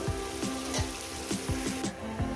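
Vegetables frying in a pan for a bitter greens and eggplant dish with small fish, a dense continuous sizzle with soft rhythmic taps of a spatula every half second.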